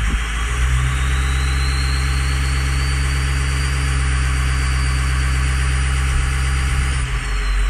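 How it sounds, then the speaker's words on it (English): A 6.0 diesel truck engine idles steadily and loudly up close, a constant low rumble with a faint clattering texture and a slight dip near the end, with no voices. "This truck runs."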